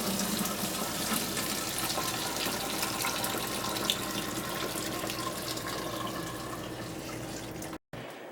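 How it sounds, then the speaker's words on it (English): Watermelon must poured over a straining bag into a bucket, a continuous close splashing, gushing flow of liquid that runs steadily for several seconds and cuts off abruptly at the end. "we've got our watermelon must here, and we'll just pour it down over the bag into the bucket"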